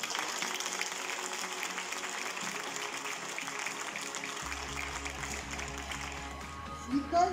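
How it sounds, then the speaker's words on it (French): An audience applauds at an induction ceremony for youth municipal councils in Villenave d'Ornon, a steady patter of clapping from a crowd that slowly fades, with a low hum coming in partway through. "Vous pouvez les applaudir."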